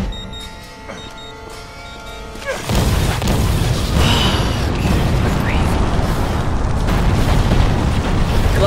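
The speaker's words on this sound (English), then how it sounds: "Glad it blew up the right way." In the video game Resident Evil 3, a quiet mechanical hum gives way to a sudden loud explosion that settles into a sustained roaring, rumbling blast with debris crashing for several seconds.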